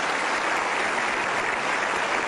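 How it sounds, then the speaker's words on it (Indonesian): Steady, dense audience applause with many hands clapping continuously at even loudness throughout, no voices standing out. "kita berikan aplaus"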